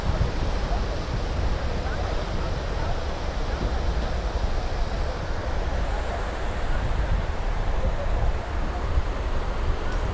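Ocean surf at El Nido beach roars in a steady, broad wash that goes on without a break, with wind buffeting the microphone.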